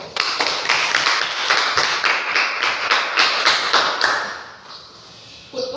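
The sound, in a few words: classroom students clapping for the blue group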